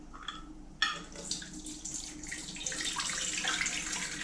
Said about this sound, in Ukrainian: І так, другу водичку ми зливаємо.